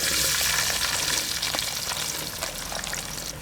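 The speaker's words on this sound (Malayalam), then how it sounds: "ഇതൊരു ബ്രൗൺ കളർ ആവണ വരെ നമ്മൾ നല്ലോണം വാട്ടി കൊടുക്കണം കേട്ടോ" Half a kilo of sliced shallots frying in coconut oil, a loud, dense hissing sizzle that runs steadily throughout, heard up close with no voices.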